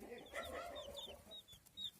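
Soft clucking and chirping from chickens, chicks and ducks nearby, with occasional high peeps over a quiet outdoor background after rain.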